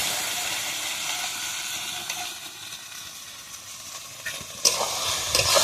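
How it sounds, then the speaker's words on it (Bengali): Boiled peas and potatoes are stir-fried in a spice paste made with goat fat for ghugni, giving a steady hiss of frying, with louder spatula scrapes near the end. "মটর আর আলু ভালোভাবে একটু কষে নেবো।"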